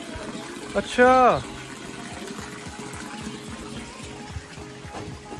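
Water rushes steadily beside the Chambal River in Kota, a continuous broadband wash heard close by, while someone speaks briefly near the start.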